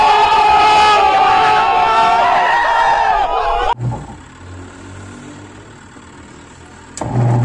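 A Eurotek single-tub washing machine with a newly replaced timer starts up after the knob is turned. A loud, busy stretch gives way to a steady low motor hum with faint rattling that runs on alone.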